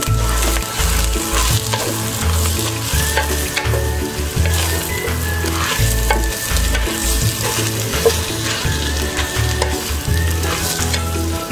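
Chicken pieces are added to chorizo frying in a pan for tinga de pollo, giving a loud, continuous sizzle with scraping stirs and clattering utensil knocks throughout, no talking.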